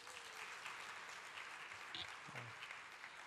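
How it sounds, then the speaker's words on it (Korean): Applause from a church congregation during a Friday service, a steady wash of many hands clapping throughout, fairly distant and even, with a few faint voices underneath. "박수 한번 해주세요"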